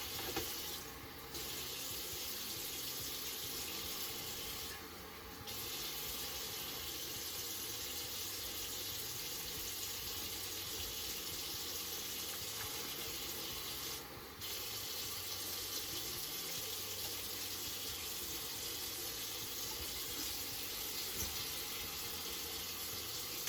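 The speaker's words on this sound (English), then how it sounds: "Let's get some water in there. Mix that up." Steady rush of water running from a tap into a container for mixing, continuous throughout with a few brief breaks, no talking.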